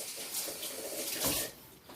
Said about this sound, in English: So I'm just going to go ahead and rinse my hands.